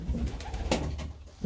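Pigeons coo in soft, low rounded calls close by in a loft, a few repeated coos over quiet background noise with no talking.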